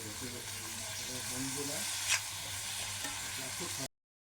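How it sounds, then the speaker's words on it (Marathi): Chopped onion and tomato sauté in a pan for a sprouted-bean bhaji, a close continuous sizzle with stirring scrapes and one brief sharp clink before the sound cuts off abruptly. "कांदा परतून घेऊन टोमॅटो टाकून घेऊ. ते परतून घेऊया."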